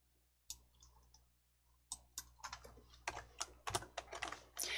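Mouse and keyboard clicks while working in Hangul word-processing software, opening the header and footer menu; a few isolated clicks at first, then a quick run of sharp, close clicks toward the end, with no talking.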